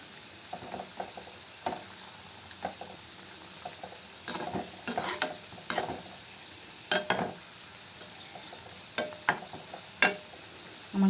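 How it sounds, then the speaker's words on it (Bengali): Three mini samosas deep frying on low to medium heat in a small wok of oil give a soft, quiet bubbling bed, broken by intermittent louder crackling bursts and a few clinks, with no voices. "একদম সিম বা সিম টু মিডিয়ামে দিয়ে আপনারা ভাজতে পারেন।"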